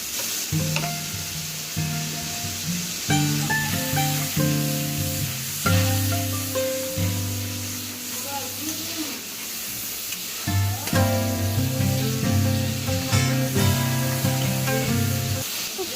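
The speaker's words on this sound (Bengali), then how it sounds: "ভালোভাবে এই তেল জল মশলাগুলো সমস্ত কিছু খুব ভালোভাবে নেড়ে ফেলে নিই" Mustard paste and spices fry in hot oil and water in a pot, with a constant loud sizzle and repeated scraping and clanking of a stirring spoon throughout.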